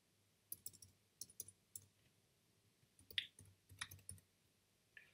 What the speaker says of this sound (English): I'm going to double click on this bin